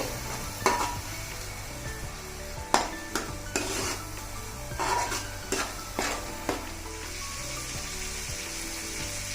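Ground paste for fish pulusu fries in a pan under music, a low steady sizzle broken by several sharp clinks of a spoon or ladle stirring against the metal.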